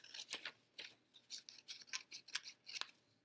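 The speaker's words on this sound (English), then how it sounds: "use your scissors and do it like this" Scissors cutting paper around a glued edge for a fifth-grade 3D vase art project: about a dozen quick, crisp snips in an uneven rhythm, close and quiet with no talk.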